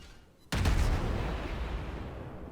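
The German cruiser Hindenburg in World of Warships fires a single loud, sharp high-explosive salvo that booms and then rumbles away over about two seconds.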